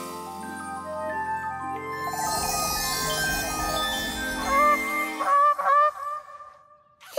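A cartoon swan honks several times, with loud nasal calls rising near the end after a stretch of musical score and tinkling effects.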